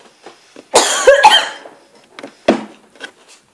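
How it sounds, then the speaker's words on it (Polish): A woman who is ill coughs in a harsh, close burst of two or three coughs, followed by a few quieter throat sounds and breaths. "Sorry, że to kaszle,"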